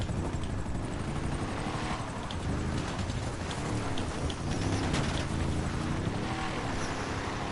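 In the video game GTA, the failing engine of a helicopter keeps up a loud, rhythmic rotor chop and churning engine drone that runs unbroken throughout.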